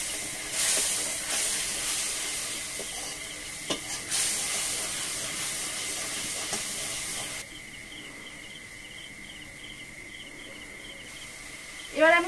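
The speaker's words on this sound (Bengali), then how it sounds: "মশলাটাকে ভালোভাবে কষে নেব।" Spice paste for a Bengali hilsa and potato-eggplant curry frying in a pan with a steady broad hiss that softens partway through, then a brief bright clatter near the end.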